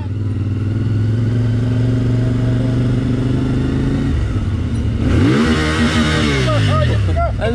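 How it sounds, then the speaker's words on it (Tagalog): Several motorcycles on a mountain road during a group adventure ride hum steadily with low engine drone, then one revs up and passes close with a rising, swooping whine, loud throughout. "Ang dami pang motor dito."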